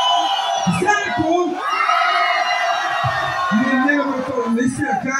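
A club crowd at a freestyle rap battle shouts and cheers loudly, with bursts of roaring voices and chanting that surge and fall close by.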